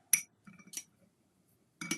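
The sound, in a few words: rinsing palette knife in glass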